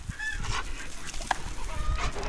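Hens cluck in short, scattered bursts close by, mixed with soft farmyard noise and a few sharper calls.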